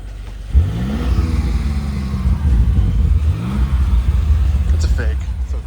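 A Land Rover engine at a Land Rover show revs hard twice, each surge rising and falling over a steady idle, with people talking nearby underneath.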